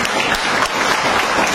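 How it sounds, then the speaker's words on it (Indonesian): A church audience applauds during an Indonesian sermon by a former Nahdlatul Ulama figure, producing a short, steady wash of clapping that stays fairly loud throughout. "Tepuk tangan."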